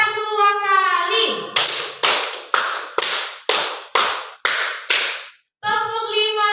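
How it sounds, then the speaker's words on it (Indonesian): Eight crisp group hand claps in two quick sets of four, played by women in a rhythmic clapping game, with someone speaking before and after. "tepuk empat dua kali,"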